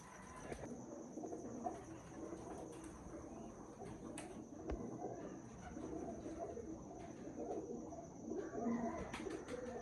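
Soft racing pigeons coo through a steady outdoor background, with occasional wing flutters and faint bird calls scattered throughout.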